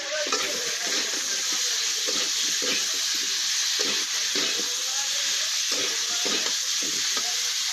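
Potatoes and soybeans coated in onion paste, salt, turmeric and spices are stirred in a pan, a constant bright sizzle broken by rhythmic scraping strokes of the spoon, close and fairly loud.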